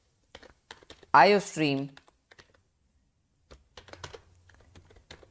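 Typing C++ code on a computer keyboard: scattered light key clicks before and after a short spoken word, with a soft low hum in the later part.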